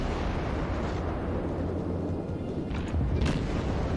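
Warship guns boom in the World of Warships video game, with dense, continuous rumbling blasts and a few sharper bursts near the end, played loud and without talk.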